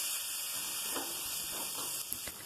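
A splash of water hits a frying spice paste for prawn and taro-leaf curry, producing a soft continuous hiss and sizzle while it is stirred, fairly quiet with faint scraping.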